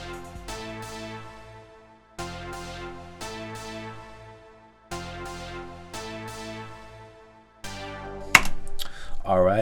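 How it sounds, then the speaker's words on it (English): Synthetic pluck patch from Omnisphere's Dance Floor Muscle Hit 1, playing a chord progression in FL Studio as a 2000s-style beat: short bright plucked chords in repeating groups with decaying tails, ending in a brief louder burst. "I grabbed the Dance Floor Muscle Hit 1 patch. And this is more of like a synthetic pluck type of sound."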